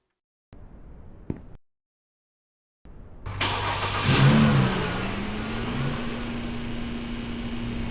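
Pickup truck engine in Snow Plowing Simulator starting after two short clicks, then revving up loudly and settling into a steady idle hum up close.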